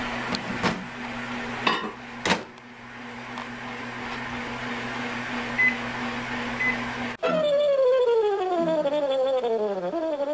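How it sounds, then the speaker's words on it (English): A microwave oven hums steadily with a low electrical drone and a few clunks while preparing Finnish pulla bread, then a different whirring appliance sound takes over near the end. "Again, back to the handy microwave."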